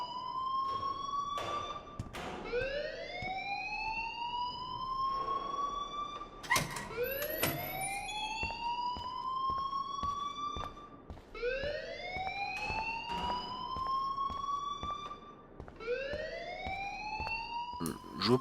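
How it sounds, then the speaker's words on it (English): A repeating electronic alarm in the video game Life is Strange rises in swooping, siren-like whoops roughly every two to three seconds, loud and continuous, with faint background game sounds beneath. "please turn off that alarm since that's your job."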